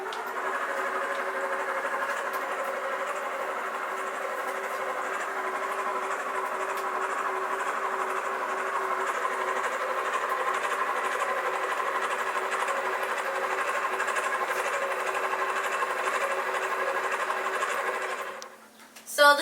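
An electric mixer beating cookie dough, a steady loud motor whir that holds without break for almost the whole stretch, then stops abruptly with a brief clatter at the end.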